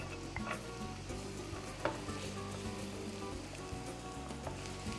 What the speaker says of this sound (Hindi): तो अब देखिए अनियंस सॉटे हो रहे हैं